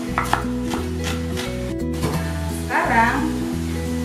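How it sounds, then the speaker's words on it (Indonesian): A knife slices spring onion in quick rhythmic taps on a board for a couple of seconds, then pauses, all under steady tonal background music. "Kita lanjutkan dengan mengiris daun bawang"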